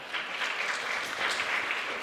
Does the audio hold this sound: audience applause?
yes